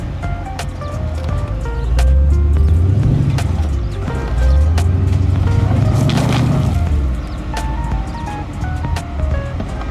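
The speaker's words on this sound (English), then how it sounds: "Slight wheel spin and the Jeep moves higher" A Jeep climbs a slope with slight wheel spin, its engine loud and steady and rising and falling in two long revving surges.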